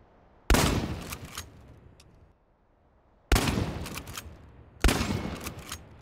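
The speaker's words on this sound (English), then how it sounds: "The shotgun has considerable spread, so you may as well leave your glasses at home." Three loud, close shotgun blasts in the video game Chernobylite, each a sharp crack followed by a decaying echoing tail, spaced unevenly across a few seconds with quiet between them.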